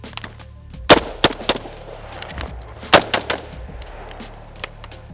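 Rifle gunfire during a shooting drill: sharp, close shots arrive in two quick clusters of three or four, separated by a pause, with no talking.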